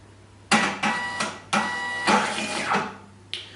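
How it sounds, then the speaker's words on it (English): Zebra S4M label printer recalibrating after a reboot, a series of several short mechanical whirring and feeding bursts, close and fairly loud, with brief pauses between them. "This printer model, the S4M, will also recalibrate when it's rebooted."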